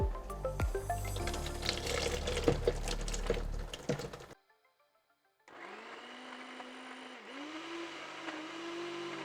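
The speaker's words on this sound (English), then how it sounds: "blend them on a high speed." A kitchen blender whirs at high speed through lentils and liquid, stops briefly in near silence, then restarts with a steady, strained motor hum that dips as the load shifts.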